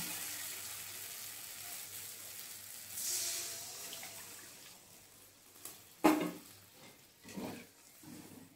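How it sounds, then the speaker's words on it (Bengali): Water poured into a pan of fried, oil-releasing spice paste with tomato and green chili, rushing and hissing softly, then a clink and a few splashy stirs toward the end. "এবারে আমি জল দিয়ে দেবো"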